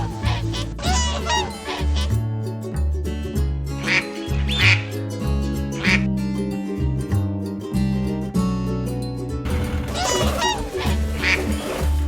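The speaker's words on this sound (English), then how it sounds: "We've got geese and ducks today." Ducks quacking repeatedly alongside geese in a toy farm scene with a pond, the calls recurring in bursts over a steady musical backing, loud and close.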